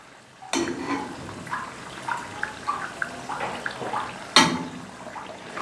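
Beef hareesa in a pot being mixed with added kebab, a wet, squelchy stirring with scattered soft clicks and scrapes, moderately close and fairly quiet, with a sharper knock of the spoon near the end.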